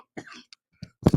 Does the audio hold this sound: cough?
yes